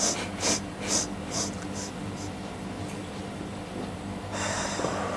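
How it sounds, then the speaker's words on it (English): A slow, deep breath drawn in through the nose during a breathwork exercise: several soft sniffing pulls at the start, then a steady airy hiss that swells toward the end, close to the microphone. "Okay, one last one here. Breathing in."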